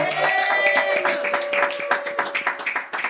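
A church congregation at a Sunday service claps for Jesus, a dense burst of many hands with irregular percussive hits, fairly loud and steady for about three seconds, with a sustained tonal hum underneath.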